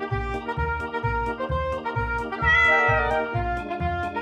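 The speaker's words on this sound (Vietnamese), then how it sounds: "Con mèo." A cat meows repeatedly in a steady rhythm, each call loud and close, with a longer, higher, drawn-out meow near the middle and no talking.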